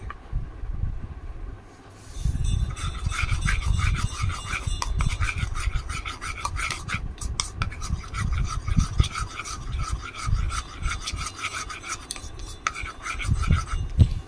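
Coconut oil being stirred into a homemade skin serum, a steady soft scraping and rubbing of a utensil against a small container, continuous and close.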